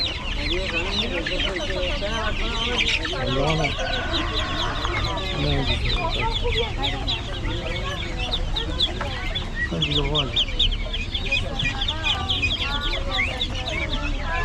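Chickens cluck continuously in a busy Thursday market in Kelachay, Gilan, in northern Iran. Dense overlapping clucks and squawks sit close and loud, with market voices mixed in.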